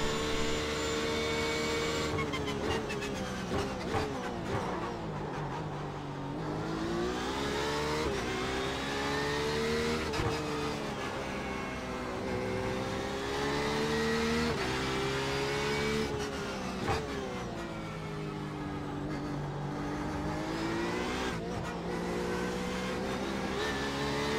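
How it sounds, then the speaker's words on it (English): A loud Porsche 911 RSR (GTE) race car engine in the iRacing sim at the Nurburgring revs and roars continuously, pitch rising and falling through gear changes as it accelerates, with no talking. "God, this car sounds so freaking good."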